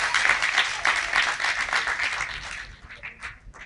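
Graduation ceremony audience applauding, a dense wash of many hands clapping steadily for a couple of seconds before thinning into scattered claps as it fades.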